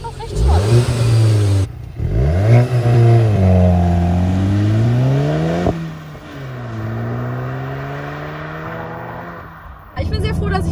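Volkswagen Golf 8 GTI with a manual gearbox revving loud and close, the engine note climbing and falling through several sweeps before a gear change and a steady pull.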